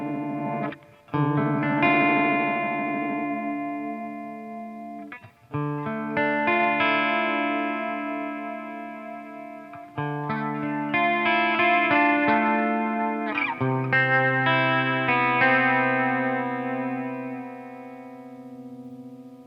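An electric guitar played through a chorus pedal with tilt EQ, giving sustained chords and melodic lines with a shimmering, slightly distorted wobble. It plays loud and close, with brief pauses between phrases and no talking.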